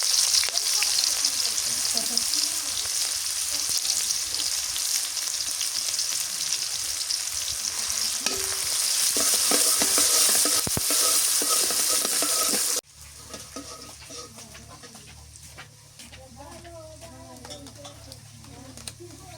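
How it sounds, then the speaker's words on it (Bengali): Cinnamon, small cardamom pods, cloves and chopped onion sizzle in hot oil for a Bengali rohu fish kalia, a steady loud hiss with stirring for about thirteen seconds, then the sizzle drops to a quieter crackle with faint background sounds. "দারচিনি, 4টে ছোট এলাচ, 2টে লং, পেঁয়াজ কেটে দিয়ে দিই।"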